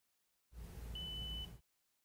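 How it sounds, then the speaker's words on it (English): A Mazda5 car radio emits one short, clean, high electronic beep when a channel preset button is held, a steady tone against a faint background hum. "Press and hold a channel preset button until a beep sounds."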